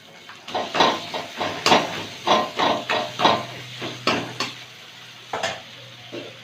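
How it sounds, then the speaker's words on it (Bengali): Spice paste with Kashmiri chili powder, chopped tomato and salt being sautéed in a pan for a broccoli curry: a rapid series of loud, close clanks and scrapes of a spoon over a soft sizzle. "এবার মশলাটাকে কষাবো।"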